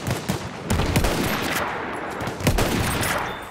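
Battlefield 1 gameplay during a sniping match, with dense rapid gunfire and explosive bangs piling up in a loud, busy battle mix, a few sharper shots standing out from the constant roar.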